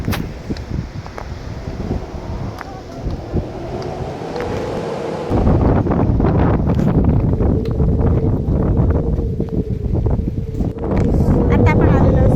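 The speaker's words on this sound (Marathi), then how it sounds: "किती वारा सुटला आहे" Strong wind gusts across a cold hilltop viewpoint at Mahabaleshwar, buffeting the microphone in heavy, rumbling surges that strengthen partway through, while people talk faintly under the roar.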